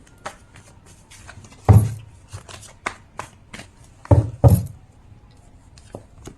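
Tarot cards are shuffled and handled up close: a run of dry riffling and rubbing ticks, broken by a few louder slaps as cards are set down, with faint speech at times.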